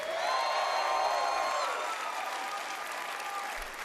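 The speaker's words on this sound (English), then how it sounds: "Another round of applause, please" A large crowd at the E3 Bethesda press event applauding and cheering loudly and continuously, then slowly tapering off.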